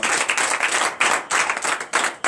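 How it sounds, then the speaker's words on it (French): A church congregation at a morning prayer service claps and acclaims the Lord in loud bursts of rhythmic, close clapping that surge and break several times. "je vous invite encore à donner une vive acclamation à l'Éternel"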